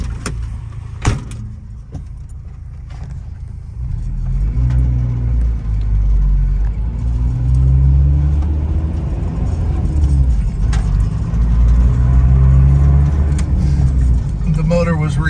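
A 1986 Toyota 4Runner, fitted with a new air compressor, drives along with a steady low engine and road rumble that builds after a few seconds, with a brief jangle of keys near the start.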